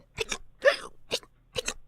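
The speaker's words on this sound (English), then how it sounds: "Cartoon hiccup." Cartoon hiccup sound effect: four short, bouncy hiccup bursts in an uneven rhythm, with the second one longest and loudest, each standing alone against silence.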